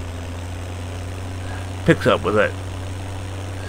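A combine harvester's engine idles steadily in the background with a low, constant drone, while a voice speaks briefly over it.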